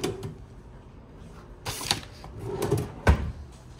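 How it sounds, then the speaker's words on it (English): Drawers in a hotel room are opened and shut in a few brief clunks and slides, with a sharper knock near the end, fairly close and with no talking. "Double check drawers."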